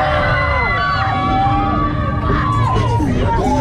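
Loud, sustained shouting and cheering from a crowd at a Luna Park funfair ride in Saint-Pierre-la-Mer, with whoops and children's yells rising over a dense roar.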